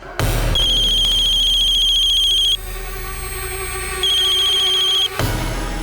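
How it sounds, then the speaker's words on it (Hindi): A phone rings with a repeating electronic trill, two bursts separated by a short pause, loud and close over a low steady hum. "अननोन नंबर से फोन है सर"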